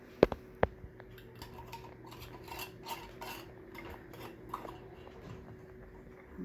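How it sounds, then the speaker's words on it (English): Metal lids go onto glass pickle jars, loosely placed, with a couple of sharp close clinks followed by lighter clattering taps and faint handling noise, no talking. "And put our lids on here"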